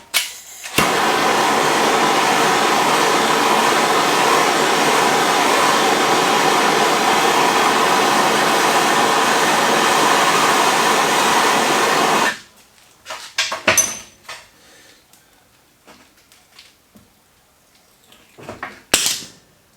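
Torch flame heating and melting a rubber bushing on a Polaris Ranger 500 UTV, a loud steady roaring hiss close up for about twelve seconds, then cut off, followed by sparse clanks and knocks.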